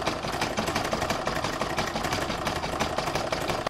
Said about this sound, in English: I'm now going to pop that back in my machine and stitch round number 4, which is the zigzag around this raw edge